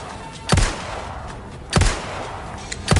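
Gunshots in Resident Evil 4 gameplay during a boss fight with a chainsaw monster, three loud, close blasts spaced about a second apart over a steady game background.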